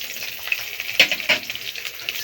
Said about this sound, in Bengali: এবার এটাকে একটুখানি ভেজে নেব